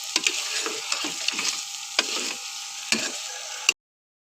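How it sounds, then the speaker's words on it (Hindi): Potatoes fry in a turmeric masala in a pan, a steady close sizzle broken by several sharp scrapes and knocks of stirring, with no talk. "अब हम इसमें डालेंगे आलू। ये अच्छी तरह इनको भूनकर"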